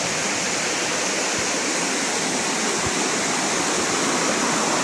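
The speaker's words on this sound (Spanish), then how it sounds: "la parte de arriba de la cascada" A waterfall in Panama's El Montoso reserve, heard from its top where the La Villa river begins, gives a constant, dense roar of rushing, splashing water, loud and unbroken, with no voices.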